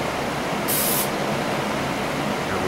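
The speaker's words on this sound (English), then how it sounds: "Here we are putting our first tack coat on." A short, bright hiss of spray paint, gloss black laid on as a tack coat over a Majorette Cadillac Allante model car, bursting for under half a second and then giving way to quiet background noise.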